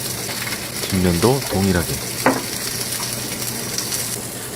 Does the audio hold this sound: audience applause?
no